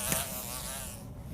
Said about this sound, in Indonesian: Kok ada lalat di sini?